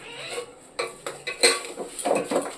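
A spoon scraped along a fish to strip its scales in a home kitchen, giving a series of short, uneven rasping scrapes and clinks at close range, each stroke distinct with brief pauses between.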